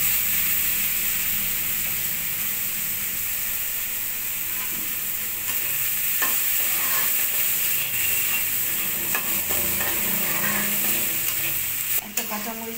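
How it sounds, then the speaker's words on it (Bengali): Chopped onion sizzles loudly in hot oil left over from frying fish, a bright continuous hiss close by, with spatula scrapes and stirring knocks growing more frequent toward the end. "এখন আমি ওই তেলের মধ্যে পেঁয়াজ ছেড়ে দিব।"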